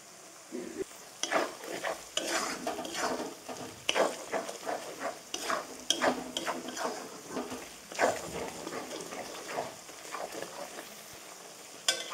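Ground cumin, black pepper, turmeric, chilli powder and chilli flakes fry in oil for spinach chicken, with a close, steady sizzle broken by repeated scraping stirs of a spatula against the pan.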